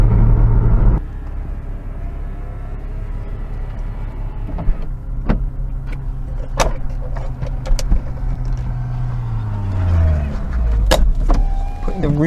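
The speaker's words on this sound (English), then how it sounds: "Putting the roof up." Electric convertible roof of a Porsche 987 Boxster mid-engine sports car closing, with a steady motor whir under a low idling rumble, a series of sharp clicks and latching knocks, then a final whirring as the roof seats.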